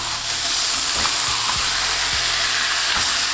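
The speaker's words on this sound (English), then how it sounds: "I'm just going to press it down to get a nice sear on the beef." Ground beef for nachos searing in a hot pan while pressed down, a steady close sizzle and hiss with a few soft utensil scrapes and taps, no voices.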